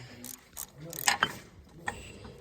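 A ratchet turns and clicks while a disk brake caliper bolt is removed during a brake job, a few short metallic ratcheting bursts close by with clanks of tools between them and no talking.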